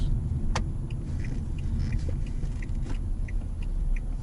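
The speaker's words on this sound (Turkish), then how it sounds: "Abi böyle kullanacaksın atmosferik motoru" A Fiat Egea Cross with a 1.4 naturally aspirated engine drives along at speed. A steady low rumble of engine and road noise fills the cabin, with a few faint clicks and ticks over it.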